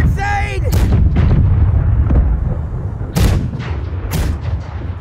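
Ship cannons fire in the naval battle game Blackwake, with several loud, booming shots spaced a second or so apart over a dense, rumbling battle din.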